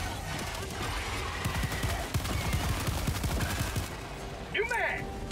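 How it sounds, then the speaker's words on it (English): Rapid pistol fire in the co-op shooter Helldivers 2, a dense string of sharp shots for several seconds mixed with game noise, trailing off near the end while a voice talks briefly. "God, this pistol is clutch."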